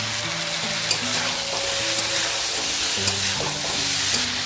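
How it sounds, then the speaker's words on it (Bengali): Vegetables and tomatoes sautéing with spice water, cumin and coriander powder in a pan for a thin fish curry, a steady loud sizzle with scraping stirs and a few clinks, no voices. "মশলার জল দিয়ে সবজিটা একটু কষিয়ে নেব"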